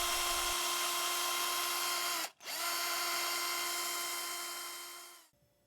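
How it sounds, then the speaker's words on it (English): A small power drill whines steadily while boring a hinge pin hole in a carved wooden hickory shad crankbait, stopping briefly once, then running again and slowing as it winds down. "Time to drill the hole for the hinge pin."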